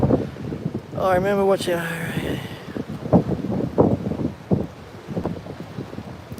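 Wind gusts buffeting the microphone on a beach in Australia, a low rumbling roar that rises and falls under a man's speech, with some sheltering behind a pandanus tree.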